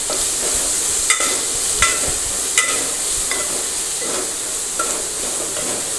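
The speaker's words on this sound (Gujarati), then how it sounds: "લીમડો અને આ ભીંડા છે સુધારેલા તે નાખી દઈશું આપણે અને તેને બરાબર મિક્સ કરી લઈશું" Chopped okra and curry leaves sizzle in hot oil, a steady bright hiss broken by a few sharp scraping clinks from stirring, with no speech.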